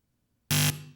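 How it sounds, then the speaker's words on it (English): A single short, loud electronic buzzer blast after silence, ending a round of a school quiz competition, lasting about a quarter second and ringing briefly as it fades. "There's the buzzer, and that means the end to the joust."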